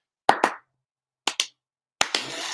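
Hands clap three times to set off a vintage toy puppy. Each is a pair of sharp, close claps separated by pauses, and the last pair is followed by a sustained whirring buzz as the toy starts up.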